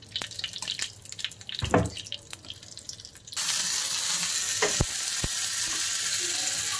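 Hing (asafoetida) dropped into hot oil for sambar bursts into a loud, steady sizzle and crackle that fills the second half, after a few quieter kitchen clinks and a soft thud.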